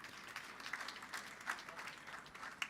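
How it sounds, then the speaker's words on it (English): An audience at an AI summit gathering claps in a soft, even patter with a few sharper individual claps, faint and distant throughout. "A huge round of applause,"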